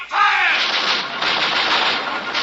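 A radio-drama sound effect of heavy artillery gunfire, with a sudden loud blast that opens into a sustained roaring barrage of crackling fire lasting a couple of seconds, without voices.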